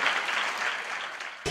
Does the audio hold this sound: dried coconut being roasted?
no